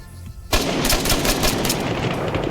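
Rapid automatic gunfire in the video game ARMA 3 starts abruptly and keeps going in dense, steady bursts, loud and close.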